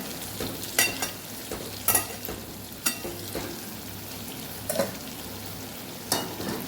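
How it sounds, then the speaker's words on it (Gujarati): Stuffed okra sizzles and fries in a pan for a Kathiawadi dhaba-style dish, with steady crackling broken by sharp scraping clatters every second or so as a utensil stirs and turns the pieces. "વચ્ચે વચ્ચે હલાવતું રહેવાનું છે ઉપર નીચે કરતું રહેવાનું છે ભીંડાને"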